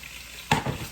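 Potatoes hit a hot pan halfway through, setting off a sudden bright sizzle of frying that continues steadily after a quiet start, with no talking.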